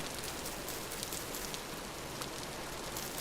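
Rainfall in Vintage Story's game world, an unbroken wash of pattering drops, soft and uniform, with no voices over it.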